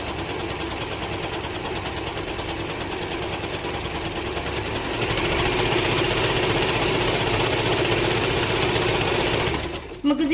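A Usha Janome DLX sewing machine stitching a straight line: a steady, close mechanical whir that picks up speed partway through, runs evenly, then stops near the end.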